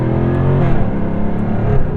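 A 2023 Jaguar F-Type R Coupe engine roars loud and close, a steady rowdy drone with rising revs throughout.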